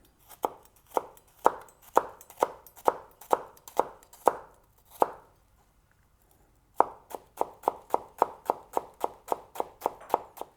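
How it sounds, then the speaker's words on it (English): A knife finely chopping a red onion on a cutting board, steady rhythmic thuds at about two per second, a short pause, then a faster, lighter run of chops, close and clear with no talking. "Let's start with our red onion. Just want to chop it up finely."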